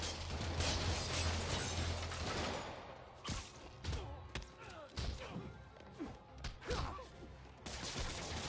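Gunfire in the Spider-Man PC video game comes as bursts of shots, thuds and mechanical clatter over a constant background rumble, loud and mixed with other game action.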